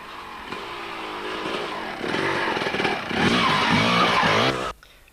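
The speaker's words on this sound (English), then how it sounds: "I'm going to follow the bikes along this track here, and it's quite dark in the forestry." 200cc Kawasaki enduro motorcycles race along a dark forest track at a two-day enduro in Rhayader, their loud buzzing engines building and revving hard before cutting off abruptly near the end, with no talking.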